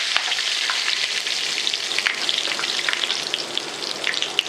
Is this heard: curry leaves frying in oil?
yes